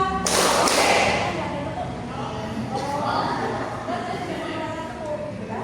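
Classroom group doing counted hand-clapping in a teacher-led lesson: a loud burst of claps opens, then a voice speaks over quieter background noise.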